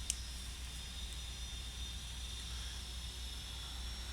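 Steady, faint roar of Boeing 767-300F engines in the X-Plane flight simulator, a low continuous drone with a thin high whine on top, holding even with no talk, as the freighter sits on the runway.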